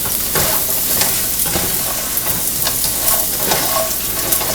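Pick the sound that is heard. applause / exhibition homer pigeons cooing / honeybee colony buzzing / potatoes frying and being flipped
potatoes frying and being flipped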